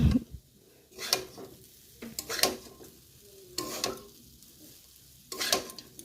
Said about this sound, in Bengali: এই যে চাউমিনটা ভাজতে শুরু করে দিয়েছি